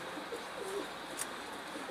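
Soft cooing of pigeons on a rooftop, a few faint low calls against quiet outdoor background noise.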